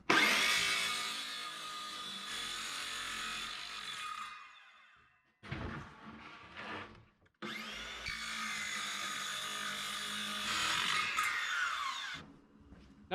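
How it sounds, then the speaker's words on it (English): Power saw cutting a piece of wood in a sculpture workshop, a loud buzzing whine running for several seconds, pausing twice, then resuming for a longer cut. "Now that I've cut the piece of wood out,"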